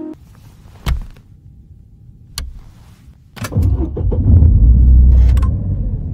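A car's starter button is pressed a few times with sharp clicks, then the engine cranks and catches, settling into a loud, close rumbling idle.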